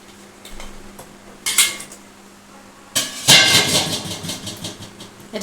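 Hilsa fish pieces being mixed with spice paste in a bowl for bhapa ilish: close clinks and scrapes of utensil against the bowl, a brief clatter early on, then a busier, louder stretch of handling, with no talking.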